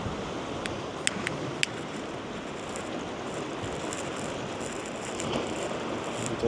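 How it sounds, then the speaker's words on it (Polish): Strong wind blowing hard outdoors, likely by open water, a steady broadband roar with gusty swells and a couple of sharp clicks near the microphone. "Dość ostro, mocno wieje."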